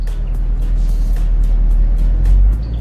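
A 2019 Camaro SS sits foot-braked and held at 2,000 RPM before launch, its V8 giving a loud, steady low rumble with faint higher ticks on top, close and continuous.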